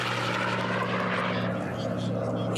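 Powerful unlimited-class racing airplanes roar past at the Reno Air Races, a loud continuous propeller engine drone with steady harmonics that fades slightly as they pull away, with commentary running over it.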